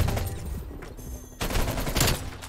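Rapid automatic gunfire from the Porcelain QBZ assault rifle in Call of Duty: Black Ops Cold War, sustained bursts that pause briefly and then resume louder, with no talking.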